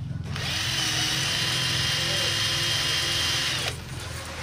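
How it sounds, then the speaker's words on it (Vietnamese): A mini cordless drill drives a homemade bicycle, giving a steady high whine that starts abruptly, holds for a few seconds and then cuts off, with a low rumble underneath. "Đây là cái con máy khoan pin mini mà mình là người lớn nó chạy như vậy là trẻ em chạy rất là mượt nha mọi người."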